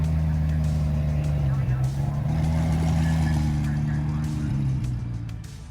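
Cars roll slowly into a Tunerfest car show at Oulton Park, a low steady engine drone close by with a faint hum that fades near the end, while a voice talks over it.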